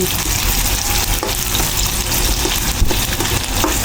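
Pork binagoongan with garlic, ginger and freshly added tomato frying in a pan while being stirred, a steady loud sizzle with scattered scraping clicks throughout.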